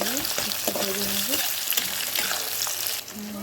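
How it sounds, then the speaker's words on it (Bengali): Onions hit hot oil in a kadai with paanch phoron seeds, giving a loud continuous sizzle with bursts of stirring and scraping, close up and with no voices. "কড়াতে তেল গরম করে পাঁচফোড়ন দিয়ে নিয়েছি। এবার আমি পেঁয়াজগুলো দিয়ে নেব।"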